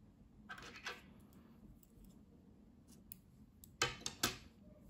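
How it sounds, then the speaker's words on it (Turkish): Scissors snipping through knitting yarn at the end of a knitted collar, a few soft close clicks and quick cuts over quiet room tone. "İpliği kesiyorum."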